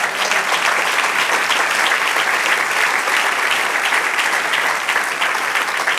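A church congregation applauds loudly and steadily, a dense, unbroken wash of many hands clapping together with no pauses.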